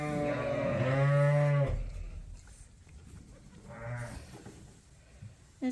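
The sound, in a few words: sheep and lambs at feeding time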